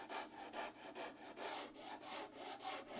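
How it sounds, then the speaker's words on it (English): A pattern maker's rasp scrapes along the edge of a rough-cut wooden master template for a bending form in rhythmic back-and-forth strokes, about six passes, each a close, raspy rub. "With a pattern maker's rasp, we clean and smooth the edges"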